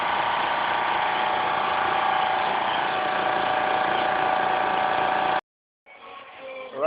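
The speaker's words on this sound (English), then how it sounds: "Now I just got to get in and weld it in." Steady buzzing crackle of a welder fusing a repair panel onto an old Chevy pickup body, continuous and loud for about five seconds before stopping, followed by a brief quieter rattling burst.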